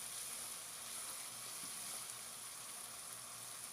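Mutton karahi masala fries in a pan, giving a steady, even sizzle that runs unbroken and fairly faint throughout, with no voices.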